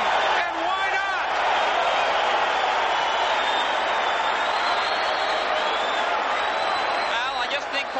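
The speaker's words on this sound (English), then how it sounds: "This crowd is on its feet" A boxing arena crowd roars on its feet after a hard-fought ninth round, a loud, sustained wall of cheering with whoops rising and falling throughout.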